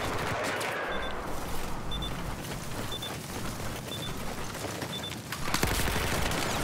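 Rapid gunfire rattles through a Battlefield 4 match in an ESL competitive game, dense bursts of shots and distant booms running continuously over a busy battle backdrop, with a heavier blast near the end.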